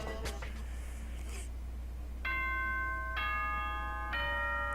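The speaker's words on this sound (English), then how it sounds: "Ding dong, bing bong." Announcement chime from the video game Danganronpa: three bright, ringing bell-like tones sound one after another at steady intervals over a constant low hum, clear and prominent.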